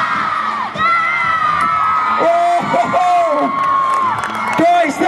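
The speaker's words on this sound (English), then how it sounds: "Let's make some noise! Hooray!" A lively crowd, many of them children, cheers and whoops at a trial bike stunt show, with high shouts and yells rising and falling continuously, loud and close throughout.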